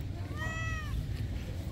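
A single drawn-out meow rises and falls over steady low background rumble, fairly faint, from a cat at a tourism office in Alaminos, Pangasinan, Philippines.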